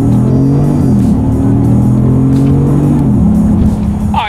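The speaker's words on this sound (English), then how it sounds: "I'm going to have to downshift a couple times, and let's test out the paddle shifters here." Engine of a 2019 Genesis G80 Sport heard from inside the cabin, a loud, steady drone with shifting harmonic tones as it revs through paddle-shift downshifts from fourth gear.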